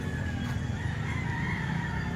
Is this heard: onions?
no